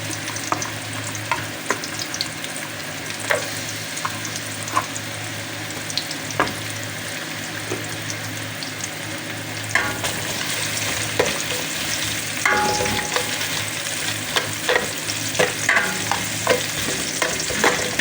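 Ginger and onion sauté in a pan for chicken feet, a steady sizzle with repeated sharp scrapes and clicks of a utensil stirring, louder bursts of scraping in the latter half, no voices.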